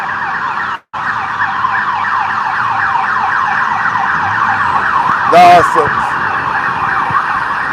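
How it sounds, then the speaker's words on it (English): A wailing ambulance siren dominates busy London street traffic during a Yellow Vest march, loud and steady throughout with a brief car horn-like blast midway and a short spoken phrase. "If you can hear the traffic behind me,"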